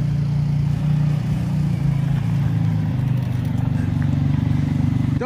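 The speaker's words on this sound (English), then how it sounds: "She took it for a spin to see how it rode." A CFMOTO ZForce 500 Trail side-by-side fitted with 800EX shocks is ridden, its engine droning steadily at a low, fairly loud pitch throughout with a slight rhythmic pulsing and no talk over it.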